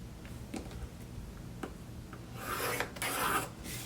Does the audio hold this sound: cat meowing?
no